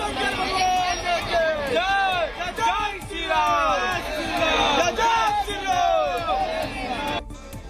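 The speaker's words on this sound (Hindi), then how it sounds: "वीकेंड पर महाकुंभ में उमड़ा ये जनसैलाब भोले बाबा और जय श्री राम का जयकारा करता हुआ संगम घाट की तरफ बढ़ता हुआ" A massive pilgrim crowd at the Kumbh Mela near the Sangam ghat chants religious slogans in unison, loud rising-and-falling call-and-response shouts from many voices filling the air continuously.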